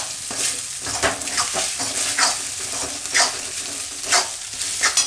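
Salted rice for orange fried rice is stirred in a pan. Close, rhythmic spoon scrapes and shuffling rise over a soft frying sizzle, with no voices.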